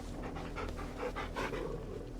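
Rhythmic dog panting in Final Fantasy XVI, steady quick breaths repeating close up across the whole moment with no talking over it.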